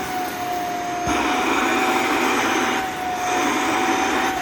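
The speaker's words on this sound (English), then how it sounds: "If you're not pressing, regular vacuum." A portable steam carpet and upholstery spot cleaner's vacuum suction makes a steady, loud whirring roar throughout, rising in intensity partway through, with a faint steady whine on top.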